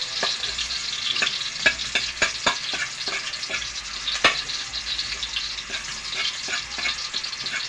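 Garlic sautéing in hot oil in a pan for chicken pinikpikan, a bright, continuous crackling sizzle with frequent sharp stirring clicks, close and steady with no voices.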